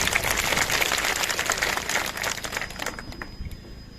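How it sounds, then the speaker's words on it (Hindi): A crowd at a public meeting in Banihal, Jammu and Kashmir, gives loud applause welcoming Ghulam Nabi Azad, a dense wash of many hands clapping that gradually thins and fades toward the end. "जोरदार तालियों से एक बार और स्वागत है।"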